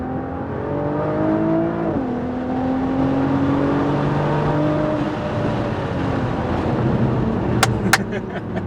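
Nissan GT-R R35 accelerating hard on a track, the engine note climbing steadily with a gear change partway through, a loud continuous roar heard from inside the car.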